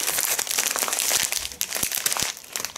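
A plastic bag holding fenugreek bought from Ozon crinkles close to the microphone, loud irregular crackling and rustling that runs on without a break.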